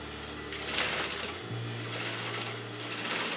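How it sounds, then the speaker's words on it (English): A sewing machine runs continuously while stitching black piping onto a wedding designer blouse, making a close, even mechanical whir with a slight shift in pitch partway through. "I'm sewing on the black color piping."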